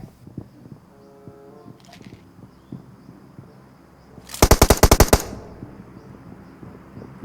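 A loud, rapid burst of automatic gunfire in the mobile shooter PUBG Mobile rattles out for about a second, close and sharp over low game ambience and faint background sounds.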